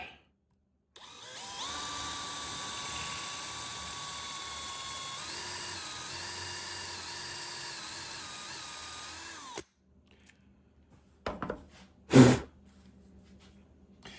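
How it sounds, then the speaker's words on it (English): A power drill bores a hole into wood to the depth of the bit. It runs with a steady high whine for about nine seconds and the pitch dips midway, then comes a quiet pause and a couple of short sharp clatters. "drilled that hole, the depth of the bit"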